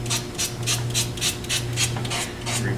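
Rhythmic back-and-forth rasping of 180-grit sandpaper against a wooden bottle stopper spinning on a lathe, a steady motor hum underneath and about ten evenly spaced strokes, no voices.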